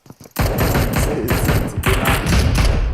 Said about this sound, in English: Shots coming out all over here in Picado as we see Slinger laying out the shots.